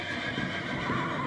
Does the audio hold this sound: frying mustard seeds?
no